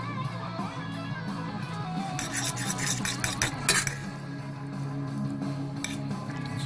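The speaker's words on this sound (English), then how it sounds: "have a look as I stir it" Utensil stirring thick chili crab sauce into instant noodles, with soft scraping and light clinks against the bowl, continuous and close over a steady background hum.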